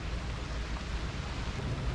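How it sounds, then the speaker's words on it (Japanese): Heavy rain pours steadily during a night fishing trip for goby, a dense continuous hiss with low rumbling underneath, close and unbroken with no voices. "すげえ雨降ってきた。"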